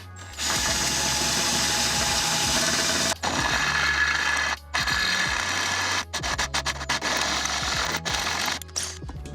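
A power drill bores holes through a Mazda MX-5 Miata NB valve cover, running in steady bursts with brief pauses between, close and loud with a grinding mechanical whir.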